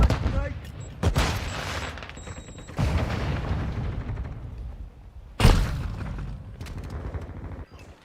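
In Call of Duty Modern Warfare II, gunfire rattles under combat voice callouts and is broken by a few sharp, loud blasts, one of them likely a thrown grenade exploding.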